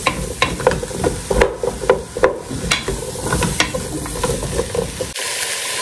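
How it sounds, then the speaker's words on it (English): Chopped potatoes and carrots fry in a pan, giving a close, continuous sizzle broken by frequent scraping and clattering as they are stirred, until the sizzle suddenly drops away near the end. "I'm going to fry all of those off for a bit."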